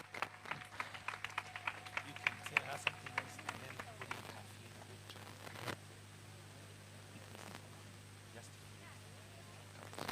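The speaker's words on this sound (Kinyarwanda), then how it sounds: "Let's give them a round of applause." Wedding audience applauding: a faint, scattered burst of clapping over the first few seconds that thins out into low crowd murmur and shuffling.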